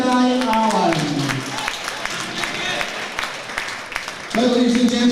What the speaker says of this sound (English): keep your applause going for his opponent, Malachi Allen